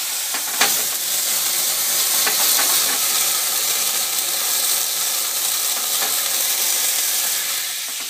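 Very dry Sheffield sherry hisses and sizzles loudly in a hot pan, a dense, continuous bubbling crackle with a few sharper pops, close and steady from start to finish.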